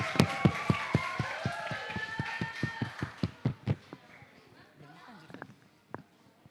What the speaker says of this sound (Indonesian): Ayo tepuk tangan dulu dong buat Kak Diah.